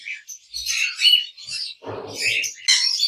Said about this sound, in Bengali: এখানে বেশ কিছু রেডেড অপার লাইন লাভবার্ড পাখি আছে